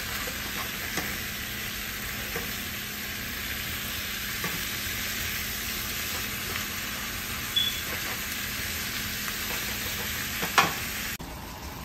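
Beef chips fry on low heat in a pan, a steady close sizzle and crackle that runs throughout, with a few small pops and scrapes near the end and no talk.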